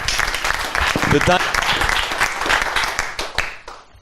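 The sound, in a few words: audience applause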